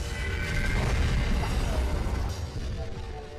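An explosion in a film about a Viking village attacked by a monstrous creature: a loud, sustained booming roar with deep rumble that holds for several seconds before easing slightly, with no voices.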